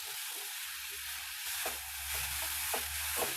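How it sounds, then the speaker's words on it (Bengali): Grated carrot being stirred as it fries in a pan for carrot pithe, a steady soft sizzle with a few sharp scraping strokes of the spoon near the end. "এবার গাজরটাকে আমি একটু নেড়ে চেড়ে নেবো।"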